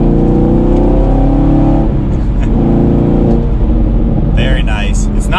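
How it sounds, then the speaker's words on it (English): A 2019 Chevrolet Camaro SS 1LE V8 revs hard under acceleration, a loud sustained engine drone close by that rises through the clip, with a higher whine near the end. "So just one acceleration now."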